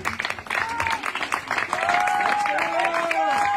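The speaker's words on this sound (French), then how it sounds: "On peut applaudir très fort aussi." Audience applause at a competition results announcement in France, a dense patter of clapping that swells and holds loud throughout, with an announcer's voice and tonal music running underneath.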